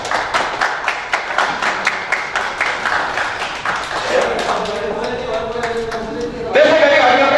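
An audience at a Nepali Christmas program claps in a burst of brisk, rhythmic applause that fades after a few seconds, followed by a voice over the hall.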